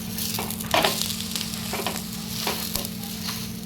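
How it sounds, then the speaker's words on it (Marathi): Fenugreek thalipeeth frying in oil on a pan gives a steady, close crackling sizzle with occasional soft spatula scrapes and pops. "एकदम खरपूस असं आपल्याला आपलं थालपीठ भाजून घ्यायचं"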